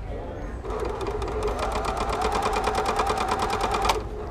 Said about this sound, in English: Probably test the sewing machine.